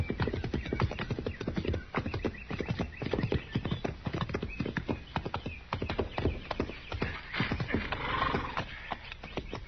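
Several horses ridden off outside a frontier fort, hooves clip-clopping in a busy steady rhythm close by, with a whinny near the end.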